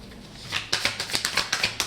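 Tarot cards being shuffled by hand, a quick run of about a dozen crisp riffling snaps in steady rhythm, close and fairly loud with no talking.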